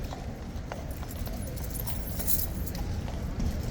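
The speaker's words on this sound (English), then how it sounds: "here come the new replacement horses" A team of new replacement horses arriving near Hyde Park, their hooves clip-clopping in a steady, close rhythm on the road over a constant outdoor background hum.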